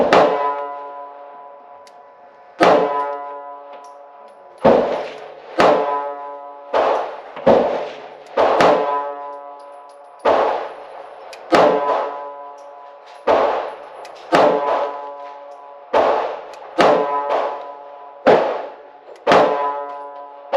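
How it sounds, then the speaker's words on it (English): Pistol shots in .380 caliber, Beretta 80x Cheetah, Kimber Micro 380 and Ruger LCP compared, fired one by one at a range target 10 yards away, loud sharp cracks in an uneven series of about twenty, each with a short ringing decay. "That's me shooting these narrow guns left."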